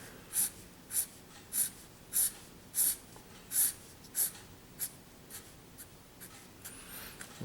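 A marker scratches across paper in short repeated strokes, about ten quick shading swipes spaced under a second apart, close and quiet, growing lighter toward the end.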